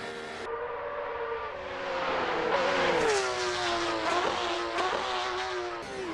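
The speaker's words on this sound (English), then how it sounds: "172 miles an hour. Not slow, this Porsche." A Porsche race car in a racing sim howls along at about 172 mph on the Nürburgring Nordschleife, its loud, sustained engine note rising and dipping steadily with gear and throttle changes.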